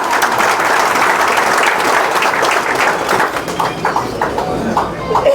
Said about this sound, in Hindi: भाई राम रतन जी का तालियों से स्वागत कीजिएगा